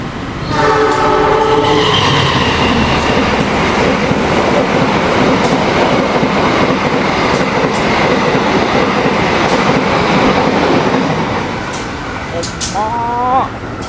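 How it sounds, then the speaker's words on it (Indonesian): Taksaka express passenger train racing past a trackside spot in Indonesia at about 120 km/h: a loud, sustained roar of wheels and wagons, with horn blasts near the start and again at the end. "itu dia lampu dari kereta api Taksaka udah terlihat"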